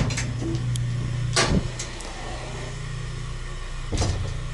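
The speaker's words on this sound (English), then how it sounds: "according to the records, it's a White Evans freight elevator" A White Evans single-speed freight elevator in a church, running with a steady low motor drone and hum, punctuated by a few sharp clanks and knocks from the car and its gear.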